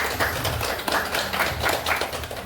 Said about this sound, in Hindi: एक जोरदार ताली होनी चाहिए आप सभी के लिए।